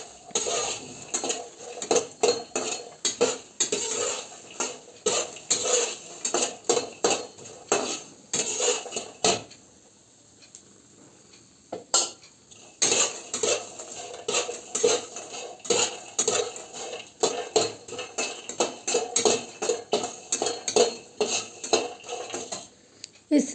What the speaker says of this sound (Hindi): अब इसी में मैं मखाना फ्राई कर रही हूँ, इसी बचे हुए घी में।